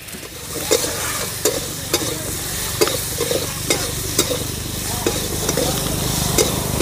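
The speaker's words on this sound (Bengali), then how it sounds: "আলুটা কিছুটা সময় ভেজে নিয়েছি," Potatoes frying in a pan with salt and turmeric for a kalmi greens and puti fish curry, stirred with steady rhythmic scrapes every second or so over a constant close sizzle, with no talking.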